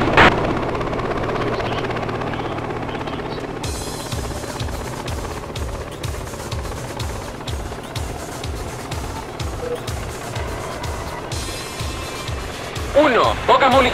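A helicopter flies through a military-style video game with steady rotor thumping throughout, joined by rapid bursts of gunfire and engine noise; a player calls out in Spanish over the action.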